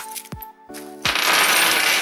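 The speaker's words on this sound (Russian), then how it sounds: "Комплект болтов." Metal bolts from a mounting kit for a 42-inch LED light bar clink and jingle as they are handled, a few sharp close metallic taps followed by a brighter rattling spill.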